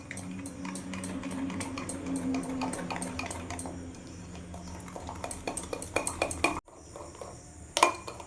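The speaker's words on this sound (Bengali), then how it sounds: "এবার সব উপকরণগুলো আমি ভালো করে মিশিয়ে নেবো।" Spoon clinking and scraping against a bowl while sugar and other ingredients are stirred together for mango sandesh, a steady run of small metallic knocks that goes quiet near the end before a final sharp clink.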